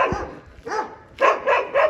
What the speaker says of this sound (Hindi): ऐसे कुत्ते भौंकेंगे जैसे अभी मुझे भौंक रहे, खतरनाक कुत्ते